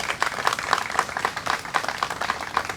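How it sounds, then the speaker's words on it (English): Applause from an audience at a press briefing at a museum of art, moderately dense clapping with individual claps audible, steady throughout and heard on its own without talk. "Please give him a round of applause."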